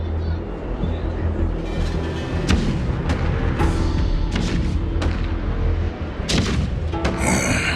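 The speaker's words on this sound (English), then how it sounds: "The rumble of the cannons." Deep, continuous rumbling with repeated heavy booms and thuds of distant cannon fire in the video game Honkai: Star Rail, loud and sustained throughout.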